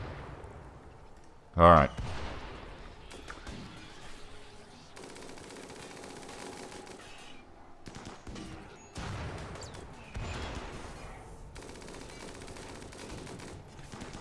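Bursts of gunfire ring out in the colony-management game Rimworld, a sharp loud volley near the start followed by quieter rattling bursts, with a voice speaking briefly over them.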